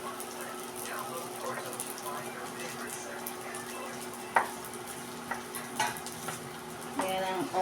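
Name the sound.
stir-frying dish in pan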